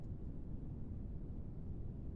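Steady broadband low rumble of brown noise ambience resembling wind, heavy in the low end, continuous and even at a moderate level with no other sounds.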